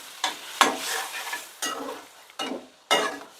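Boiled mutton is stirred into fried spices and fennel in a pan: five distinct scraping, sizzling strokes with short pauses between them, close and clear.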